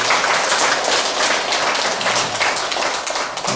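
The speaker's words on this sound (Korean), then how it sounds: "다시금 감사의 큰 박수 부탁드리겠습니다" A full hall of listeners at a Buddhist Dharma service keeps up steady, loud applause throughout, with dense overlapping claps and no talking.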